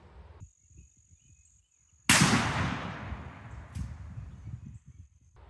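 A single loud shotgun blast fired at a wild turkey during a hunt outdoors, a sudden sharp crack followed by a long fading rumble, with a steady insect-like whine in the background.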